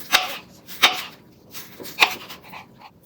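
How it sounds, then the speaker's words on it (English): Knife chopping green onion on a board for a breakfast dish, four or five sharp, separate thwacks spaced irregularly with quieter knife scrapes between, close and clear with no talking. "This is how I'm going to chop the green onion, like that."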